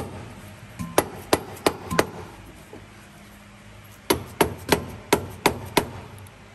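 Hammer tapping on a Ford Everest tail-shaft CV joint to free it, struck in two bursts of five or so sharp metallic blows with a pause between, close and loud.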